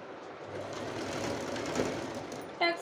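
A sewing machine stitching tucks on the front of a kurti, a steady rapid mechanical whirr close by, followed by a short click as it stops.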